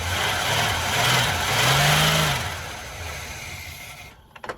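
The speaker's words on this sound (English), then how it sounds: "Let's rev it up. It's still a little noisy." A 1981 GMC Sierra pickup engine, still a little noisy with a ticking lifter, is revved twice, rising and falling in pitch, then settles before cutting off with a few clunks near the end.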